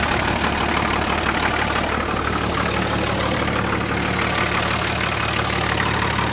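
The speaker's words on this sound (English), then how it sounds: "That's the Nissan turbo diesel." A Nissan turbo diesel fitted in a 1980 IH Scout with a 3-inch turbo exhaust idles close by, giving a steady, loud, rough clattering drone with no voices.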